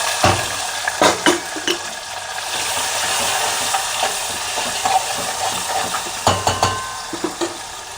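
Chopped tomato sizzles in hot oil with cumin and curry leaves for Maharashtrian katachi amti, a steady close frying hiss broken by several sharp spatula scrapes and stirs against the pot.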